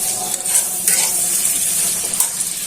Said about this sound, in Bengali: এখন ভালো করে চিংড়ি মাছটার পেস্টটা ভাজা হয়ে যাবে।